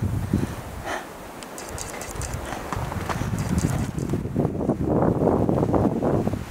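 Wind buffets the microphone near Daecheongbong, the summit of Seoraksan, as a steady broadband rush that swells toward the end, with footsteps crunching faintly underneath.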